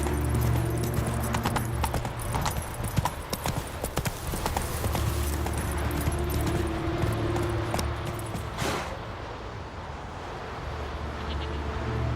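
A horse gallops in The Witcher 3, its hooves beating out a quick, rhythmic clip-clop with jangling harness, loud and close, and the pace eases toward the end.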